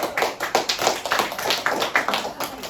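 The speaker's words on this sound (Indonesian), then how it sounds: "Beri aplaus kepada gentleman kita yang maju." A small classroom audience gives a brief round of applause for a student presenter during a microteaching session, steady light clapping lasting a few seconds with no talk over it.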